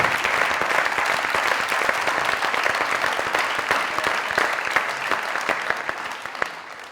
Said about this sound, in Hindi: ज़िया साहब के लिए जरा स्टैंडिंग ओवेशन प्लीज।